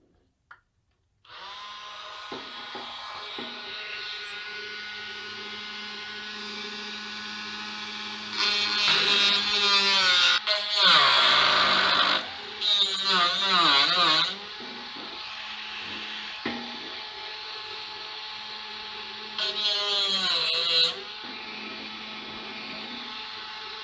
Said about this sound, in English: Now, so that this can actually slide, I'll grind out the web in between these 2 holes